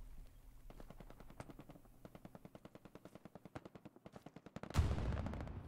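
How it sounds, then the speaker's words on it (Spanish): Machine gun fire in the World War II shooter Hell Let Loose, a long rapid burst of evenly spaced shots at moderate distance, ending in a louder nearby blast. "Está la puta MG, tío."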